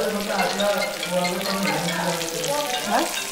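Surmai kingfish frying in a pan gives a continuous, fairly loud sizzle and crackle, with faint voices murmuring in the background.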